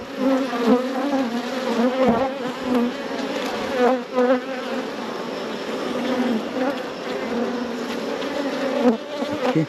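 Dense swarm of honey bees humming around an open, strong hive during a June inspection, a loud continuous buzz with wavering pitch and no voices.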